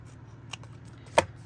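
Scissors trim a strip of glued recycled packaging in a single short snip, a close, crisp cut against a quiet background with one fainter click just before it.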